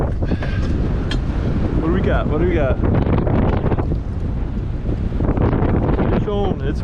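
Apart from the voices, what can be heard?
wind on a fishing boat at sea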